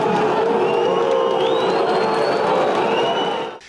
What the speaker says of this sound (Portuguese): Vaias principalmente para os laterais Alex Silva